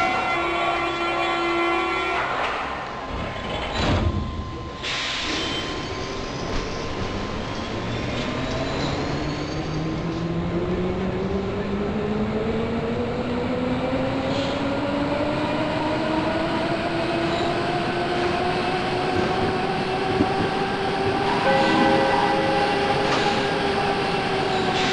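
A Berlin U-Bahn U2 subway train pulls away from the platform, its electric motor whine rising steadily in pitch over a continuous rail rumble and wheel noise, close and loud with no talk.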